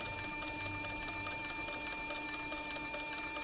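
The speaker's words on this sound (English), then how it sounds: "my bobbin winder over here is winding the bobbin as I sew this flank strap right here." Industrial cylinder-arm triple-feed sewing machine sewing a leather flank strap while its bobbin winder runs, a steady close mechanical hum and rapid stitching rattle throughout with no talk.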